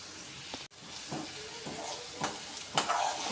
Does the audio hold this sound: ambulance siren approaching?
no